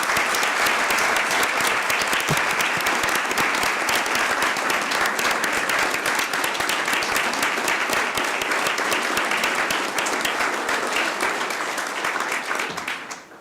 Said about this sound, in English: Let's give our employees a round of applause.